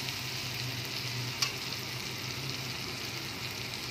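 Ginger garlic paste frying with melted tomato in a pan for egg curry makes a soft, even sizzle with faint stirring scrapes and one sharp clink midway, quiet and without talk.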